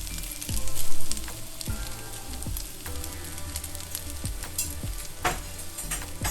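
Salmon croquettes frying in hot oil give a loud, continuous sizzle with scattered pops and crackles, plus a few sharp clicks and knocks from cookware, and no one talks.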